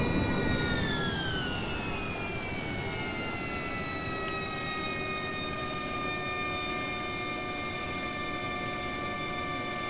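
Honda Jet engines in Microsoft Flight Simulator, a steady loud whine with high tones that slide downward early on and then hold level over a constant roar, with no voices.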